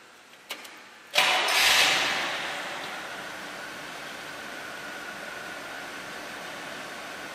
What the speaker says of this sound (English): The throaty 350 fires up instantly, idles quietly, and is even clean enough to be used for showing.